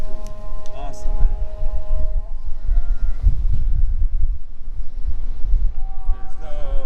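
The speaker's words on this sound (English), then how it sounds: "Look at those sheep." Sheep bleating on a sheep farm, several calls close by and fairly loud over wind and outdoor rumble, with someone talking between them.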